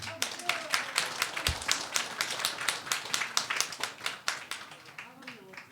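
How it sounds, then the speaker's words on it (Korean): A church congregation claps together for a young member during a Korean sermon, a steady run of close, sharp handclaps lasting several seconds with a few voices mixed in. "박수 한번 쳐줘요"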